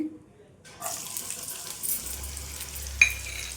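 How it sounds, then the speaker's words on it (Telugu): Chopped onions hit hot oil in a pan with a sudden sizzle that settles into a steady, close frying hiss, broken by stirring scrapes and a sharp metallic clink, with faint voice nearby. "ఈ ఆయిల్లో అయితే ఒక కప్పు ఉల్లిపాయ ముక్కలు వేసుకోవాలండి"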